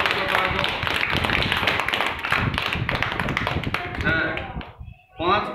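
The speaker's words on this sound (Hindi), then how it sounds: "ताली बजाओ सबके लिए।" Children in a classroom clap together in a dense, sustained burst of applause that fades out near the end, followed by a short spoken reply.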